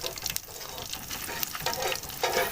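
Whole cumin, star anise, green and black cardamom, bay leaf and black peppercorns fry in oil for a beef biryani, giving a steady crackling sizzle with occasional stirring, close and moderate in level.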